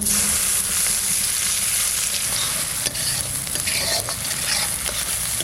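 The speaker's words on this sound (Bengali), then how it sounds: "আর একটু তেল দিয়ে দিচ্ছি লঙ্কা কালো জিরে পেঁয়াজ" Chili, nigella seeds and onion fry in oil with a loud, dense, continuous sizzle and crackle, close up, with occasional stirring scrapes and no talking.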